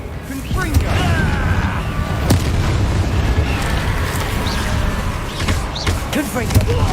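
Repeated Confringo fire spell blasts from the video game Hogwarts Legacy, dense booming bursts and pops crowding a loud, continuous battle mix with chanting voices over it.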